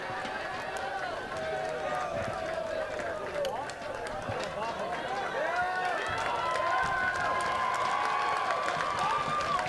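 Crowd at Bear Stadium for a 3A state baseball final between the Pirates and Mustangs, a steady outdoor murmur with scattered cheers and shouts, while a play-by-play announcer talks over it throughout.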